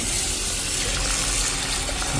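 Water pours steadily into a cooking pot for boiling ingredients, a loud continuous gushing splash heard close up with no voices.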